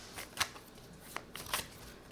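A deck of tarot cards is shuffled during a reading, giving soft, brief riffling and slapping bursts spaced irregularly, close and quiet, with no talking.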